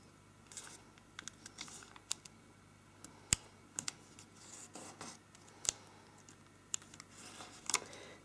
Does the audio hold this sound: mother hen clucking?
no